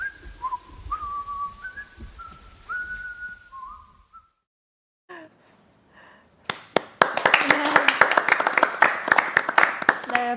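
At a live talk show, someone whistles a short wavering tune, then after a pause the audience bursts into lively clapping, rising into steady applause.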